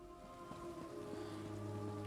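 Rain falls in The Elder Scrolls Online, a soft steady patter of drops on surfaces over a low hum, faint and unbroken.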